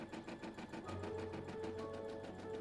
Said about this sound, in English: begin by sewing the applique position